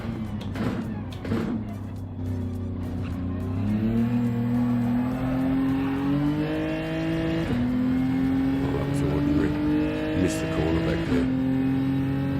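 Race car engine in a racing video game at Yas Marina, loud and close, revving through repeated downshifts with stepped pitch changes and a brief tire squeal, while someone talks over it.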